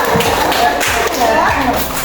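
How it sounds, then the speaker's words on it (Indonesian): A school class claps hands together in a classroom, a burst of close, loud, fairly irregular claps running for about two seconds. "tepuk tangan untuk kamu dan kita"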